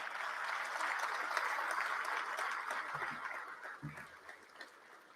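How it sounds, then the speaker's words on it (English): Applause from the audience at a state of the state address in Louisiana honoring Ben Dell, moderate and somewhat distant, fading toward the end with a few stray low sounds. "Let's give him a round of applause"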